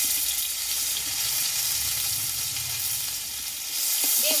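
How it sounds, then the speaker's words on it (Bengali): A paste of ground green chili, ginger and cumin fries in a pan with a steady close hiss, with some watery bubbling and a brief clink near the end and no talking. "মশলাটা আমি একটু হালকা করে ভেজে নেবো"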